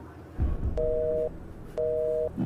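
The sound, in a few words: telephone busy signal after call drops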